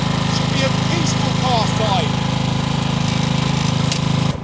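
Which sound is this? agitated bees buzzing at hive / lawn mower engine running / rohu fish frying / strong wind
lawn mower engine running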